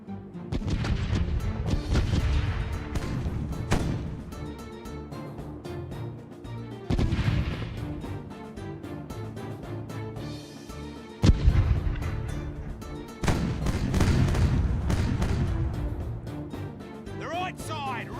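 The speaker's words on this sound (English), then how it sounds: "Because I have so many cannons to shoot." Ship cannons fire broadside after broadside in the pirate game Caribbean Legend, with heavy booming volleys and crackling gunfire rolling in repeated bursts, while someone talks over the battle.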